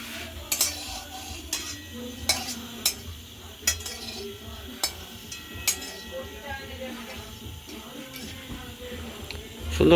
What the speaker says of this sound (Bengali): দেখুন দেখুন মশলাগুলোকে আমি খুব সুন্দর করে ভেজে নিচ্ছি।